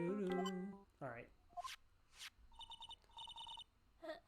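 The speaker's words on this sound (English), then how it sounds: "Nick, your phone!" A phone rings in the video game Ace Attorney Trials and Tribulations, a burst of short repeated electronic trills following game sound effects and a chime, fairly close and clear.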